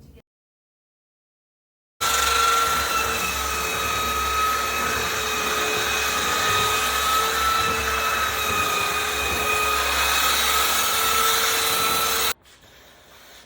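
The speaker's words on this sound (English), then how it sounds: "You got to be super cool when you're using this belt sander like that, especially with an 80 grit on there." A belt sander fitted with an 80 grit belt grinds steadily across cedar for a wooden paddle board, a loud, continuous whine and rasp that starts after a silent pause and stops abruptly near the end.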